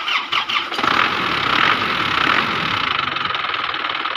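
A car engine runs steadily at close range, a continuous broadband rumble and hiss after a few brief knocks at the start.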